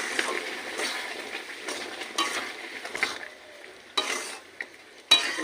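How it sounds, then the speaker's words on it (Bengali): A spoon stirs mashed mango in a pan for mango jelly, giving close, soft scraping and wet sloshing strokes with a few sharper knocks against the pan. "ভালো করে মিশিয়ে দিতে হবে।"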